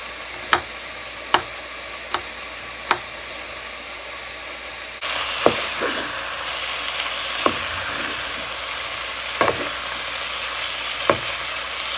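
Beef searing in a pot gives a steady sizzling hiss that grows louder partway through, with occasional sharp clinks and scrapes over it and no talking.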